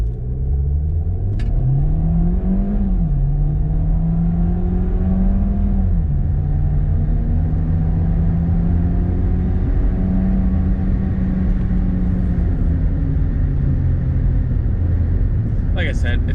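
A 2021 Volkswagen Jetta S with a 1.4-liter turbo engine accelerates steadily, its engine note rising through several gear changes over a constant road rumble, loud and close from inside the cabin, with a brief click near the end.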